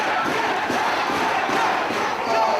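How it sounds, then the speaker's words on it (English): Wrestling crowd at a Ring of Honor show roaring and cheering steadily throughout, a dense wash of many voices without pause, fairly loud and close, with no clear talk above it. "Crowd urging him on."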